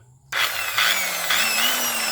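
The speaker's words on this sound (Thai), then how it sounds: "อันนี้เป็นวงเดือนนะครับ" A circular saw switches on abruptly and runs at a steady high whine, close and loud, with no voices.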